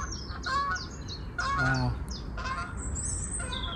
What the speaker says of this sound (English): There's some low-flying geese.